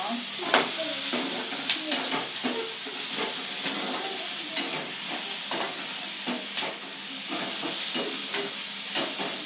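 Onions and tomatoes sauteing in a kadai for kadai paneer, a continuous hissing sizzle dotted with light stirring taps, heard close and steady, with a voice talking faintly in the background.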